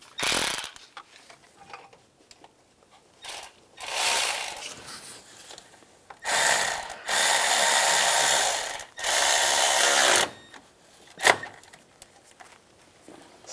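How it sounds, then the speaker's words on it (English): A ratchet wrench tightens the bolts on the oil pressure sensor of a 2005-2007 Ford Five Hundred, giving several close bursts of rapid clicking, some short and some held for a couple of seconds, with quiet pauses between and no talk. "now I'm going to tighten that one up"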